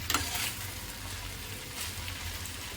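Garlic and spaghetti sizzle gently in olive oil in a pan, a quiet, even hiss that holds steady throughout.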